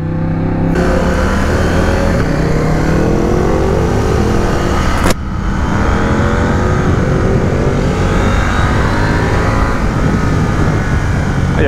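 A KTM 890 Duke R motorcycle revving hard while ridden, a loud continuous engine roar with rising and falling pitch sweeps, broken by a brief gap as it shifts mid-run, no voices over it.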